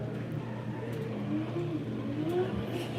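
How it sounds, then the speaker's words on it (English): Drift cars launch off the start line at a Riverside Drift competition and shift gears into the first corner. Their engines rev and rise in pitch faintly from a distance, over a low crowd rumble. "They change gears into the first corner."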